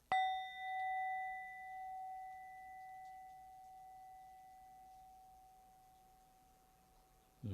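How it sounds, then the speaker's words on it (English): A single bell is struck once, ringing with a clear, pure tone that slowly fades into silence over several seconds. "Just following the bell as it fades into the silence."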